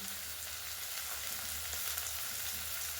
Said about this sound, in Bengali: সবজিগুলো আমার প্রায় ভাজা ভাজা হয়ে গেছে।